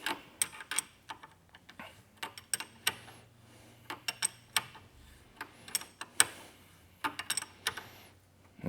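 A KS LEV dropper seatpost part is tightened and threaded in, giving faint, close, irregular ticking and clicking of turning metal with small mechanical creaks.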